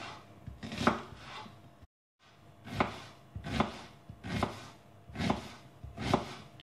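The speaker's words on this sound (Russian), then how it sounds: "Я лук мелко нарежу ножом" A knife finely chops an onion on a cutting board, quick rhythmic taps in short runs with a brief pause midway, close and fairly quiet.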